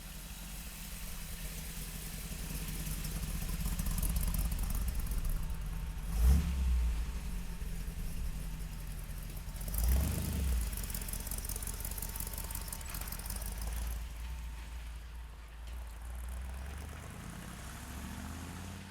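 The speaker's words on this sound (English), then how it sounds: "we're taking this old Chevy pickup out for a ride. Saginaw 4-speed, and this thing runs well." A 1958 Chevrolet pickup with a 327 engine and Saginaw 4-speed is driven, its engine a steady mid-pitched drone heard from inside the cab, with two brief bumps or revs and fairly quiet, even road and engine noise.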